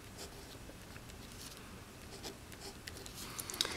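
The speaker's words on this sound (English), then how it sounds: "So I'm going to go ahead and write it down one more time." Pen scratching on paper while a physics equation is written out by hand, faint soft strokes and short scribbling bursts at close range.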